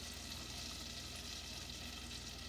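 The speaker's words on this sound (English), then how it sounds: "now over here I'm melting 1 stick of butter, and I'm going to add, it's cooking a little too fast" One stick of butter melts in a hot pan on the stove, giving a faint, steady sizzle and crackle throughout with no voice.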